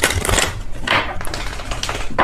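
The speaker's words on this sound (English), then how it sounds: "If I could shuffle my deck without it going everywhere," Tarot cards being shuffled by hand, with a steady riffling, flicking patter of card edges close by, running continuously with small bursts and a brief sharper snap near the middle.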